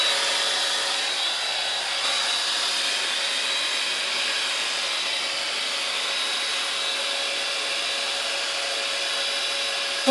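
A hair dryer runs steadily while hair is styled into curls, a constant close whirring blow with no break and no voices.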